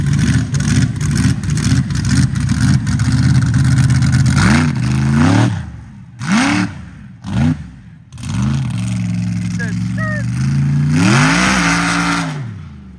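Methanol-fueled mega truck on aluminum wheels, its engine revved hard in repeated close, loud bursts with pitch sweeping up and down between short pauses.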